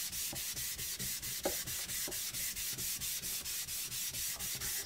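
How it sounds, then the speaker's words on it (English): A rust eraser rubs steadily along a knife blade after sharpening on Naniwa Pro 1k and Kitayama 8k whetstones, a close, regular scrubbing in even back-and-forth strokes with no talk. "Just gonna clean off with a rust eraser."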